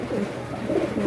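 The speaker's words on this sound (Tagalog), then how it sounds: "Magandang ibon to, breed ni Pare Roen." A racing pigeon coos softly and close by, a low throaty burbling call that rolls twice in quick succession with no talk.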